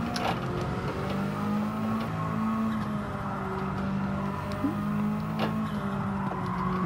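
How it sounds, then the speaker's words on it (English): Four-wheel drive race car engine revving continuously on a track, a steady loud drone with shifting pitch as the car is worked through corners, no talk. "Really start to work the car now and get the rear end moving around."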